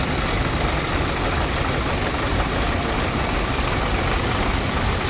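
An International 766 tractor engine running at a tractor show, a steady, loud, low diesel rumble held evenly throughout with no change in pace.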